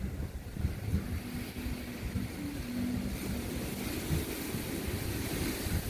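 Ocean surf rolls onto a sparsely populated beach in Ilocos Norte at sunset, a continuous wash of waves with wind buffeting the microphone, no speech.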